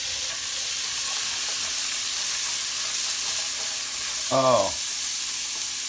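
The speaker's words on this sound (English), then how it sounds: "we're going to saute these for about 5 minutes" Carrots and onions sautéing in leftover Italian sausage grease for a tortellini soup, giving a steady moderate sizzle with a short spoken exclamation and a brief stirring scrape partway through.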